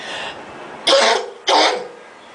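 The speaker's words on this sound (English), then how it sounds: "I've had a pesky cough." Two harsh coughs close by, spaced about half a second apart, after a brief throat-clearing rasp.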